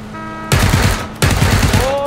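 Automatic gunfire in PUBG, two loud close bursts of rapid shots, the second after a brief pause, with faint game tones in the background.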